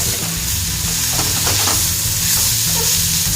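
Maasi coconut sambol, a fried coconut dish, is stirred in a hot pan. A loud, continuous sizzle runs throughout, with scraping strokes of the spoon audible close up and no voices.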